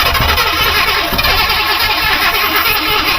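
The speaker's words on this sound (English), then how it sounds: "Keep turning the ignition until I tell you to let go." A 1974 Buick Riviera 455 V8 being cranked on the ignition, a loud, steady, continuous churning roar with no pauses and no talking.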